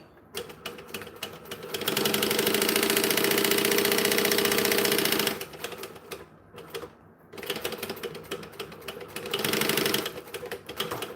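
A home sewing machine stitching rainbow thread runs in fast mechanical bursts, a steady whirring rattle that starts and stops with short pauses between runs, close and loud.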